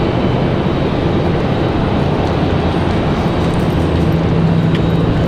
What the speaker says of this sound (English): Absolutely perfect touchdown there for the Dreamliner.